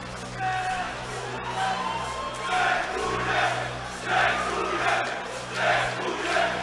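Fans at a Silesian MMA 17 event cheer and chant in unison for the winner, Sławomir Pachny, as he climbs the cage fence toward them, swelling rhythmic crowd singing in waves over arena noise.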